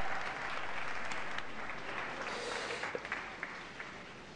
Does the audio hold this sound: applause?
yes